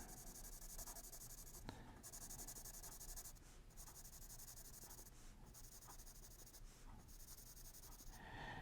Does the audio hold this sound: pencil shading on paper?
yes